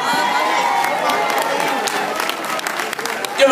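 A stage audience applauds a 15-year-old singer with a sustained wash of clapping. A voice speaks over the applause, which swells slightly at the end.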